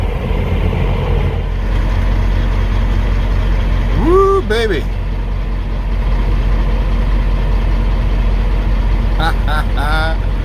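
A semi truck engine idles with a steady low rumble at a truck stop scale, a voice briefly whoops over it and squeaky air-brake hisses come near the end.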